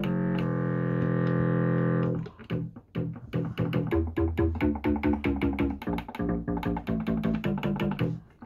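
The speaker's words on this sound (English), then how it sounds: "because it's a short note, you don't hear the detuning so much" A Behringer Crave synthesizer first holds a buzzy, distorted sustained tone, then plays a quick rhythmic sequence of short detuned notes, loud and close, with no voices.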